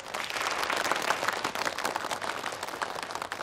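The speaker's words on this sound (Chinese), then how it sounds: "大家掌声欢迎他们" Dense, steady applause from a gathering of company executives at a Christmas Eve event, welcoming visiting board members from France.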